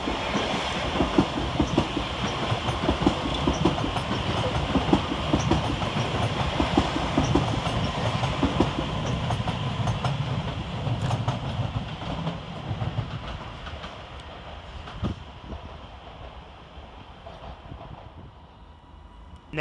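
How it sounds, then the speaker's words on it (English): Class 397 Transpennine Express train departing Preston railway station, wheels clattering rhythmically over rail joints with a rumbling engine, loud at first and gradually fading as it pulls away. "Next up for departure is 397007 with the 12:47 Transpennine Express service from Edinburgh Waverley to Manchester Airport"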